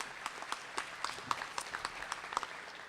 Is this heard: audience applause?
yes